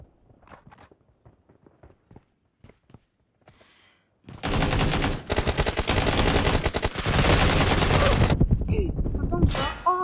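Soft footsteps and faint shuffles in PUBG give way to sustained, rapid automatic gunfire in dense bursts, loud and close, ending abruptly.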